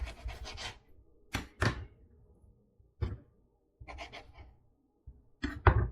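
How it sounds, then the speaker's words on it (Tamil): A knife trimming fat from beef: separated bursts of slicing and scraping against a board, several strokes spaced with short pauses, close and fairly soft. "இந்த ஃபேட்டை ட்ரிம் பண்ணிக்கலாம். ஓகே, இது வந்து ரொம்ப லாங் பீஸாக இருக்குது. ஓகே, அப்படியே கட் பண்ணுறேன்"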